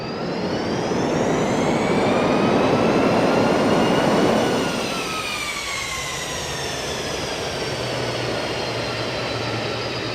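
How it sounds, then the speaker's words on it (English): Boeing 747-200F thrust reversers in the X-Plane 12 flight simulator roar as a loud, steady broadband rush with a whining turbine tone, swelling for several seconds before easing into a lower sustained rumble, with no talk over it. "There's the reversers."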